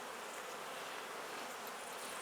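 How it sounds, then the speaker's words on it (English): Honey bees buzzing steadily inside an opened top bar beehive during an inspection, a dense, continuous close hum with no voices. "Got some bees working over here, cleaning up the cells."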